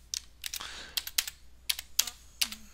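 Keystrokes on a computer keyboard while entering a chart title in a spreadsheet, sounding as short bursts of crisp clicks at an uneven pace, close and fairly quiet, with no talking.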